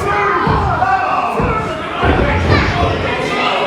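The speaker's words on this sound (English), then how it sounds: "Crowd calling for AJ to finish him" A wrestling crowd at a live event roars and chants during a match, a dense, loud wall of voices with occasional thuds from the ring and commentary talking over it.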